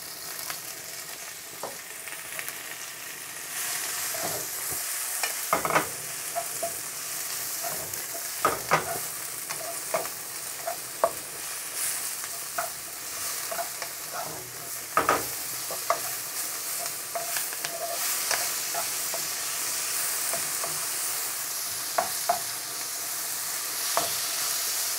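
Chinese cabbage being stir-fried in a hot wok for chicken chow mein, a continuous close sizzle broken by repeated tossing scrapes and clatters of the utensil against the wok, with no talking.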